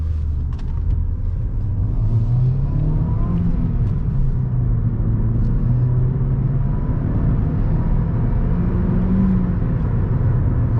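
A Ford Fiesta with a 1.2 engine drives steadily, its low engine drone and road rumble continuous and close from inside the cabin, with no talking.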